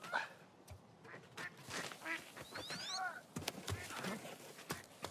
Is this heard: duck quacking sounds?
yes